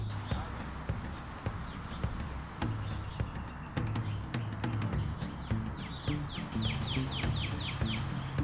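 Outdoor ambience field recording with birds chirping and calling in short repeated bursts, more active toward the end, over a steady bed of low rumble and scattered clicks.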